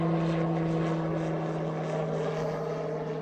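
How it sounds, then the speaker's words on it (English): A skydiving airplane flies low overhead near an airfield, its propeller engine giving a steady, loud droning hum with a strong low tone, continuous and close, no one speaking. "Ironically, that is the plane that Mrs. S skydives out of."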